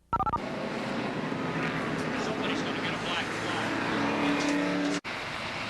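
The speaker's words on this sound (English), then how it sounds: "And there is the pace car leading the field around." Race cars at Watkins Glen during the 1986 Budweiser at the Glen roll around in a pack behind the pace car under a yellow flag, a steady loud engine drone with a brief dropout near the end.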